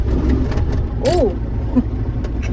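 An old tractor engine rumbles low and steady close by, with a voice talking over it.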